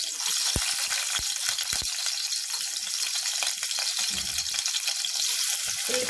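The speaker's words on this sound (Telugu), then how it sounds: "అదే బౌల్ లో ఒక 2 స్పూన్ల ఆయిల్ వేసుకొని ఆయిల్ హీట్ అయ్యాక వెల్లుల్లి వేసుకోవాలి" Garlic fries in two spoons of hot oil in a bowl while making veg manchurian, a loud steady close sizzle with a few sharp crackles and pops early on.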